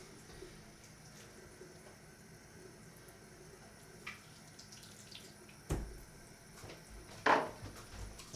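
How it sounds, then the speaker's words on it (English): Water runs quietly from a faucet as a shaving soap puck is rinsed under it, a soft steady trickle with a few brief knocks and clatters near the end. "I'm going to kind of rinse that off before I put it back in the storage container."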